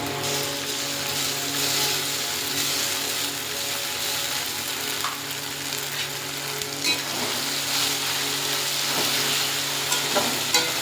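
Ginger, chili and garlic paste with tomato and onion frying in a pan for a thin goat curry, a dense continuous sizzle with scraping stirs and occasional clanks, close and steady throughout.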